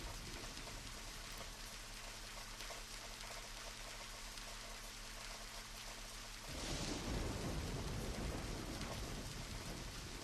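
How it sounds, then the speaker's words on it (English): Steady heavy rain hisses throughout a scene in the video game Deadly Premonition, with a low rumble under it that suddenly gives way to a broader, louder roar of downpour partway through. "The rain feels good though, doesn't it?"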